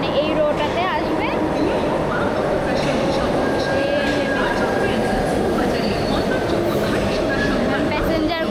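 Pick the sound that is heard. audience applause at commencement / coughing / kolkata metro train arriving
kolkata metro train arriving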